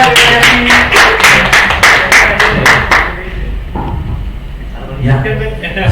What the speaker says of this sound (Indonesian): Tepuk tangan teman-teman semuanya.